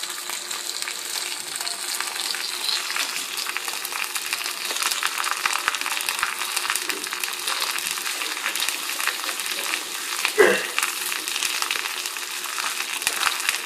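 Salmon fillet frying in a pan for an extra-crispy finish, a steady close sizzle and crackle that holds evenly throughout, with one brief clunk partway through and no talking.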